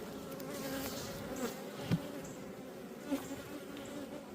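Honeybees hum in a dense, steady buzz close by in a packed hive, with a few louder individual bees passing near.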